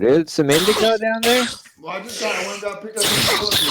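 A single sneeze bursts out amid a relaxed smoke session among friends, caught close on a mic between overlapping casual chatter and laughter.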